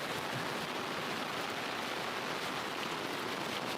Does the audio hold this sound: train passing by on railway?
no